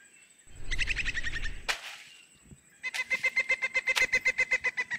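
Chickens clucking loudly and close by, first a burst of rapid calls, then a brief harsh squawk, and later a run of evenly spaced, rhythmic clucks, with no speech over them.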